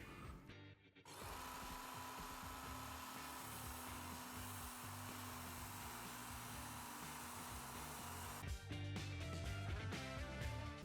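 A belt grinder runs steadily with a fine belt as a spoon is sharpened against the loose, unsupported end of the belt, a continuous loud whirring grind with a brief pause at the start and a harsher burst near the end.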